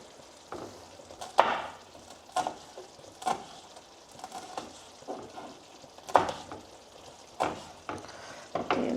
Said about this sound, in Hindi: अब मैं इसको तेज़ गैस करके इसको मैं अब भूनने लगी हूँ ऑन हाई हीट